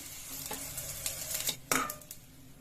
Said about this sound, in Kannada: ನೋಡಿ ಈ ರೀತಿ ಚೆನ್ನಾಗಿ ಫ್ರೈ ಆಗಬೇಕಿದು